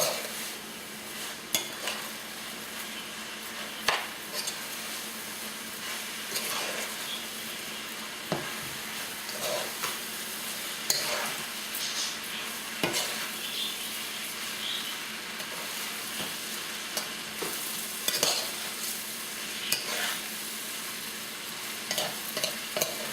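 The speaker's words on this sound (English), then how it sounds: "Now you start to see the rice frying up." Rice fries in a pan for arroz con pollo, with a steady sizzle throughout and regular scraping and clinking as a utensil stirs it, all close by and without talk.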